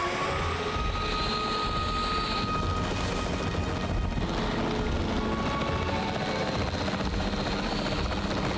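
Capture team helicopter in Jurassic World Evolution 3, a steady rotor drone and engine roar that holds at one level throughout with no voices over it.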